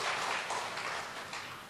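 Brief, faint patter of audience clapping in a church gathering, a soft steady wash of hand claps fading slightly toward the end.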